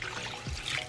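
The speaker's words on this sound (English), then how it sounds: "Okay guys, now I'm gonna add some water." Water trickles briefly into a butter sauce in a pan, a short soft pour under a faint background hiss.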